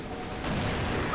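Grenade explosions in the CrossFire video game give a loud, dense burst of booming blasts that swells halfway through and keeps rumbling to the end, with no voice heard.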